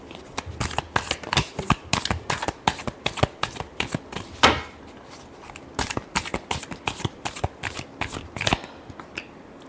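Tarot cards being shuffled close up in a quick run of crisp riffling bursts, with a brief pause midway before the shuffling resumes.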